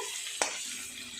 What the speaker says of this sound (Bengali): আলুগুলো সুন্দর করে ভাজা করে নেব।